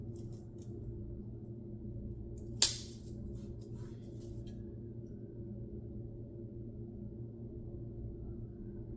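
A single crisp snip of scissors cutting through a plant stem while pruning, one sharp close cut over a steady low hum and otherwise quiet surroundings.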